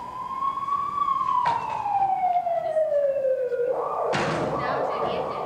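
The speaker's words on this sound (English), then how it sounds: "Now it's an ambulance." An ambulance siren wails nearby in a long, slowly falling tone, with a thump partway through and a burst of noisy commotion near the end.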